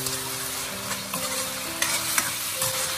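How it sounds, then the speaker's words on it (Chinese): Diced potatoes and minced pork being stir-fried in a wok with soy sauce and seasonings: a constant sizzle with repeated scraping and tossing of the spatula against the pan, close and clear with no talking. "翻炒均匀。"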